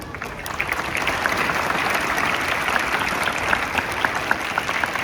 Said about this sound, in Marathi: त्या सर्व स्पर्धा उत्तमपणे पार पाडणाऱ्या आपल्या सर्व शिक्षकांसाठी एकदा तुम्ही जोरदार टाळ्या वाजवायच्यात